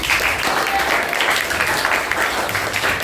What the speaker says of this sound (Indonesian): jadi aplaus dulu untuk semuanya